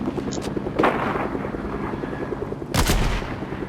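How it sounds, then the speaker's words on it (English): Sniper gunfire in a video game match, with two sharp cracks about two seconds apart, the second louder, over a steady game background and engine hum. "I'm getting sniped at."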